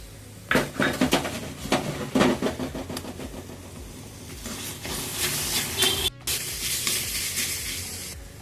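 Ginger garlic paste dropped into hot oil in a pan for chicken liver gravy, first a run of clattering spoon scrapes against the pan, then a rising hiss and sizzle that fills the rest.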